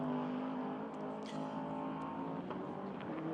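Race cars roar at the 12 Hours of Sebring in 2009, with a Peugeot in the battle. Engines hold a loud, sustained drone with a few sharper bursts, heard from the track.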